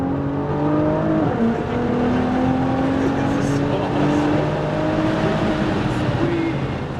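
A Nissan GT-R R35 on a track pulls hard as the driver rolls onto the throttle, its engine note climbing steadily and loud throughout, with an instructor's voice talking over it.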